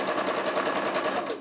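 A sewing machine runs steadily on dark fabric, stitching at a quick, even rhythm up close, alone and fairly loud for a second and a half.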